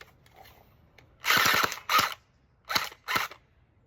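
An M4A1 gel blaster toy gun firing on semi-auto, giving several sharp, loud mechanical bursts with short pauses between them, separate shots standing clearly alone over quiet background.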